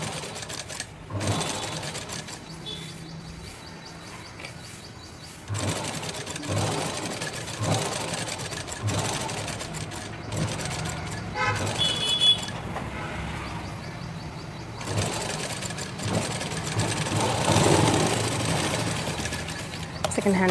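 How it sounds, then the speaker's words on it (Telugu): A sewing machine stitches the shoulder seam of a blouse in steady whirring runs, starting and stopping several times, with someone talking throughout. "సెట్ చేసి పాదం కింద పెట్టి కుట్టండి."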